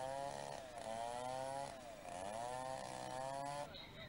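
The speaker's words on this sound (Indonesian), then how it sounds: "baru bisa mengevakuasi pohon dengan tinggi 8 meter dan berdiameter 1 meter ini dengan menggunakan gergaji mesin" A chainsaw cuts up a fallen tree about 8 meters tall and 1 meter in diameter that blocked a main road, its engine whining and rising and falling in pitch as it bogs into the wood, close and loud before cutting off.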